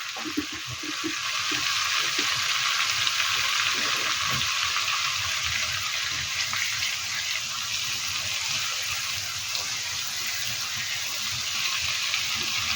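Garlic paste fries in a pan for a Naga and Bombay chili pickle, giving a steady, close, hissing sizzle that holds at an even level throughout.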